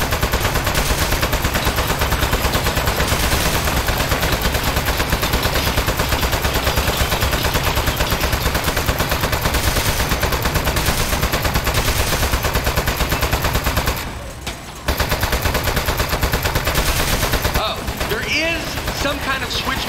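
A turret in the game Aperture Desk Job fires, a dense, loud, continuous machine-gun rattle that goes on almost without pause, broken briefly once.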